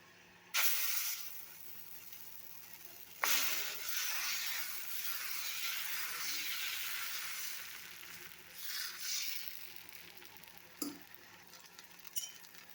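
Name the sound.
dosa batter sizzling on a hot pan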